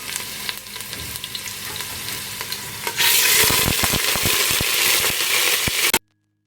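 Chicken frying in a hot pan with onions, a steady sizzling crackle that jumps louder as more is added, with scraping stirs, then stops abruptly.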